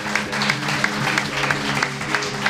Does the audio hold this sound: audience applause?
yes